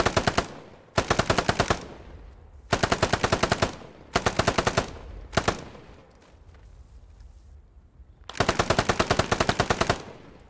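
A DP27 light machine gun fires in Squad 44's Soviet conversion mod, loud close-up bursts of rapid automatic fire, around six bursts of varying length separated by brief pauses with lingering echo.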